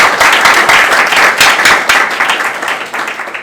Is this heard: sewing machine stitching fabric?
no